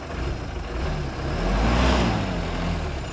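A 2017 tempo van engine with high mileage rumbles and revs up under the accelerator, swelling louder in the middle before settling back to a steady drone.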